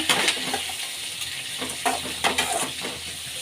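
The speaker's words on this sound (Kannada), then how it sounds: "ಈಗ ಈರುಳ್ಳಿನ ಚೆನ್ನಾಗಿ ಫ್ರೈ ಮಾಡ್ಕೊಳ್ಳೋಣ" Onions and curry leaves frying in a pan for cabbage palya, a continuous bright sizzle with intermittent stirring scrapes and light metallic clinks, close and steady, no voices.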